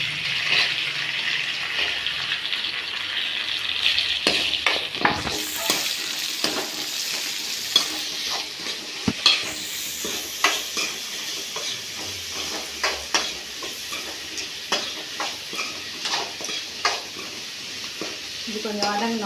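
Two chopped large onions sizzle steadily in a hot pan with chilies, curry leaves and coriander for drumstick soup, while a spoon scrapes and stirs in repeated clicks and scrapes; cooking sounds alone, fairly close.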